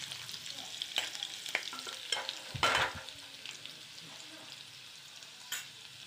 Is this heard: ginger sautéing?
yes